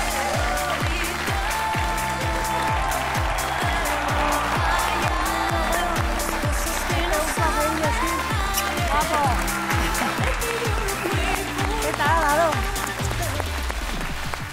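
A studio audience on a Spanish television show claps in a steady rhythmic beat with cheers, blending with music and voices in a lively, loud room.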